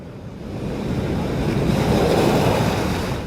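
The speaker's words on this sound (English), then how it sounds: "High surf and high tide meant one thing" High surf crashing ashore at high tide, a steady, loud wash of breaking waves that swells and roars continuously, with wind buffeting the microphone and no voices.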